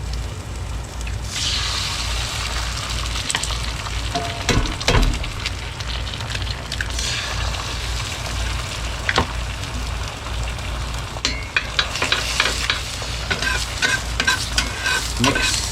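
Eggs for a spicy breakfast burrito with jalapenos being stirred and mixed in a hot pan, with steady close sizzling and frying throughout and occasional scraping and clinks of the utensil.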